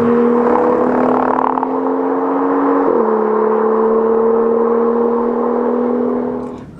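A 2016 BMW M2 engine, heard from inside the cabin, drones loudly and steadily, briefly dipping in pitch at a gear change before pulling on, with no talking.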